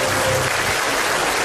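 A television studio audience at an Indonesian comedy talk show breaks into dense, steady applause, many hands clapping together loudly and continuously with no voices on top.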